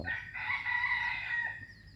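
A fighting rooster gives a single clear crow, a drawn-out call lasting over a second, fairly close and alone without talk.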